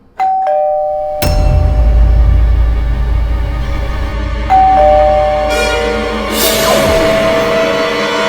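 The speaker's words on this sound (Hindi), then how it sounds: "कब से घंटी बज रही है, दरवाजा खोल।" A home doorbell rings loud and close, sounding a ding-dong chime that repeats several times in succession with ringing tones that linger between strikes.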